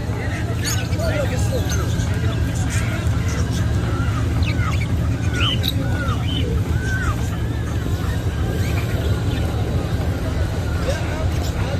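Parrots and other birds for sale at a bird and poultry market in Jeddah squawk and chatter steadily over a constant low hum and background crowd babble.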